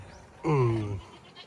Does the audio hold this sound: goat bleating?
yes